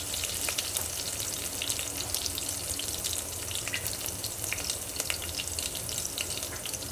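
Chopped green chillies, curry leaves and onion sauté in a hot pan, giving a soft, steady sizzling hiss with faint crackles throughout and no talking.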